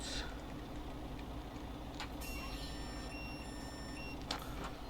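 Faint, regular electronic reversing beeps from a MAN TGX truck in Euro Truck Simulator 2, a steady high tone repeating over a low engine hum.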